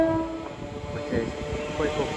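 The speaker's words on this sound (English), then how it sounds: "the 1049 Elizabeth line service from London Paddington to Shenfield" An Elizabeth line train, unit 345062, on the London Paddington to Shenfield service at Stratford station: a steady, close rumble of wheels and motors, with a drawn-out tonal whine rising and bending over it.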